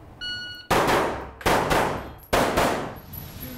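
A short electronic beep, then three loud, sharp gunshots about three-quarters of a second apart during a timed shooting drill, each crack close and ringing out before the next.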